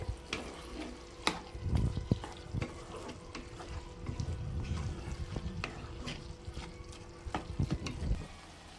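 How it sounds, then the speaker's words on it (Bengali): Bottle gourd and prawn curry, topped with chopped coriander, is turned over in a pan. Uneven spoon scrapes and metallic clinks sound over a soft bubbling sizzle, close up and without speech. "এবার আমি প্রায় দু মিনিটের মতো নাড়াচাড়া করে নেব"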